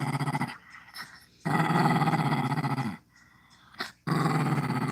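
A dog growls up close in three long, deep, rumbling bursts separated by brief pauses, with no speech over it.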